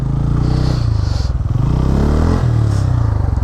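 A motorcycle's engine thrums steadily and loudly up close as the bike slides in loose beach sand at Nellore Beach, its pitch wavering slightly with a faint scraping hiss above it.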